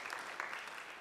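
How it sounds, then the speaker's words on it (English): Concert audience applauding at a jazz scholarship event, a steady, dense wash of clapping across the whole moment, fairly faint and with no talk over it. "You can clap."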